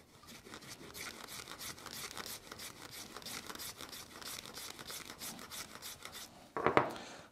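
The edge of a leather knife sheath is rubbed to clear off stray contact adhesive, making a soft, rhythmic scraping that ends in a brief louder knock.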